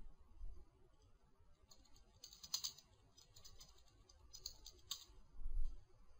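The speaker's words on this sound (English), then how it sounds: "So let's go to Edgar and type in the company name." A computer keyboard clatters as a company name is typed, bursts of quick close keystrokes with short pauses between, no voices.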